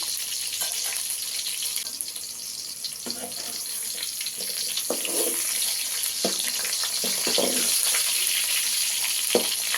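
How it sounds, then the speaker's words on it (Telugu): Bitter gourd pieces sizzle in oil in a pan while being turned over, a steady crackling fry broken by scraping stirs, with no talk. "ఈ కాకరకాయలు ఇలా తిప్పుకుంటూ మార్చుకుంటూ ఉండాలండి ఇప్పుడే అప్పుడే ఇవి బాగా వేగుతుంది అండి"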